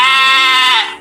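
A single loud, close goat bleat with a wavering, nasal tone, lasting under a second before trailing off.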